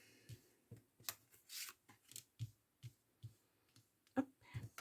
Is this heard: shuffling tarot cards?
yes